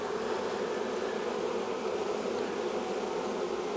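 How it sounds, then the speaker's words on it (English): Swarm of honey bees buzzing steadily around a hive box, a dense continuous drone close by with no voices, constant in loudness throughout. "Get my bees off my hand there."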